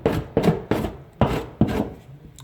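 Loose drywall is torn away by hand in a stairwell, giving five sharp crunching rips at a fairly even pace, close and moderately loud.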